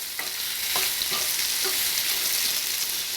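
Pulao ingredients, capsicum among them, fry in a pan with a steady bright hiss of oil and a few soft stirring knocks over a few seconds.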